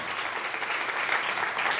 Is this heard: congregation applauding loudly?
yes